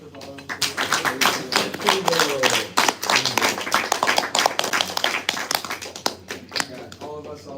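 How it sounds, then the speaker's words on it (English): Applause from a small audience at a talk in a devotional gathering room, dense uneven hand clapping that swells and fades, with some voices mixed in. "Give a round of applause for Balarama."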